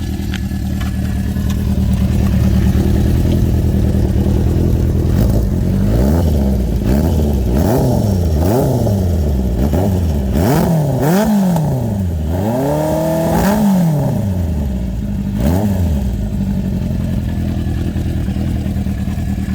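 Red 1975 Honda CB400 Four cafe racer fitted with a Delkevic 4-into-1 stainless exhaust, idling close by and then blipped through a series of sharp revs that rise and fall repeatedly, loud and clear with no talking.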